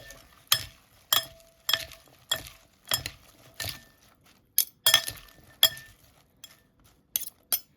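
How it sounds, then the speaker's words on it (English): Prawn salad being tossed with dressing in a glass bowl, a steady series of about a dozen sharp clinks and wet stirring sounds from a utensil, close and clear, with no talking. "put some dressing, then mix it well"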